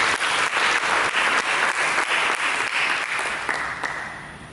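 A church congregation claps loudly and steadily in a broad, even wash of applause that tapers off near the end, with no talk over it.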